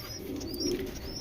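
Racing pigeons of a breeding stock coo softly in a loft, low murmuring calls rising and falling over steady background hiss, with a faint chirp or two and no talking.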